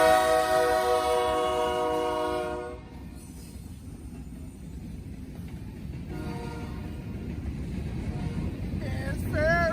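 A Norfolk Southern freight train hauling a Ferromex locomotive opens with a loud, sustained horn blast, then rolls past with a steady rumble and clatter of rail cars that builds again toward the end.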